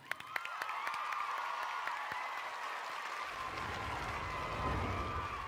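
A studio audience on a televised masked singing competition claps steadily in a sustained burst of applause. Sharp claps stand out at the start, and a low rumble joins partway through.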